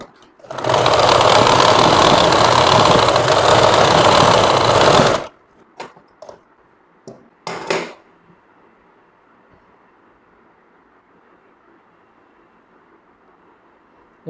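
A sewing machine runs a continuous, loud, even stitching burst for about five seconds while double-stitching a collar onto a kameez, then stops, leaving a few faint clicks and handling knocks.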